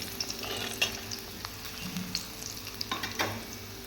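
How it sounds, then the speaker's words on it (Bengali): Paneer frying gently in oil gives a low, steady sizzle broken by scattered small pops and crackles. Quiet and close, with no speech. "এই দেখো পনিরগুলো আমার ভাজা হয়ে গেছে"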